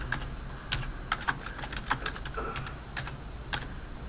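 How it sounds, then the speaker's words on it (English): Typing a reply on a computer keyboard, a steady run of crisp key clicks with irregular rhythm, close and moderately quiet, heard alone without talking. "Type your reply."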